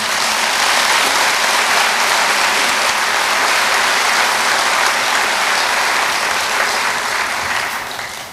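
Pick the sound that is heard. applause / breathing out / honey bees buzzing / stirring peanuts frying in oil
applause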